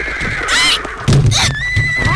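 Carriage horses neigh loudly in a shrill, quavering whinny close by, followed by a second cry and the scuffle of running hooves.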